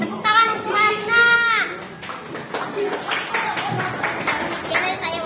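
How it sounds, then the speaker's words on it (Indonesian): Schoolchildren at a Pancasila campaign event applaud a classmate who won the vote, scattered clapping and chatter rising after a voice speaks. "Tepuk tangan untuk Hasna."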